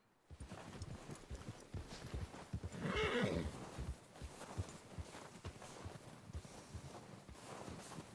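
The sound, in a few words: horse neighing and hooves in video game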